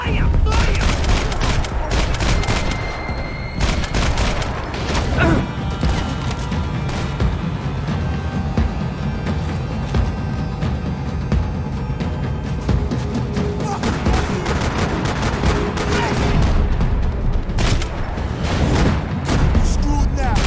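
Dense gunfire and explosive booms from the video game Max Payne 3, a loud continuous barrage of shots and blasts with shouted voices over it.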